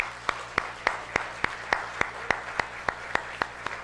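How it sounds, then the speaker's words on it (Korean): Church congregation clapping together at a Christmas service, a steady, evenly spaced beat of sharp claps at about three per second, moderately loud over a soft room hum. "우리 주님의 성탄을 큰 박수로 축하하십시다"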